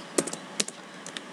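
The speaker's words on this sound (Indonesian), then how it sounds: "Pertama kita ketikkan nama kuis atau ulangan atau ujian" Fingers typing a quiz name on a computer keyboard, a quick, quiet run of about ten light key clicks in irregular rhythm, close up with no talking.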